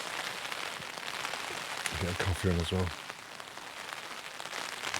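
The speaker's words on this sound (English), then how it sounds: "It's pouring down." Heavy rain pours onto a Taiji 2 tent in stormy wind as a constant dense hiss of drops on fabric, with a person speaking briefly partway through.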